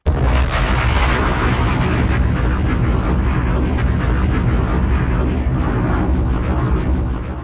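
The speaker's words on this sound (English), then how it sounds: "why my bomb sound like that?" Bomb explosion sound effect played loud and close: a broad, roaring blast that rises abruptly and holds as a sustained rumble for about seven seconds before starting to fade.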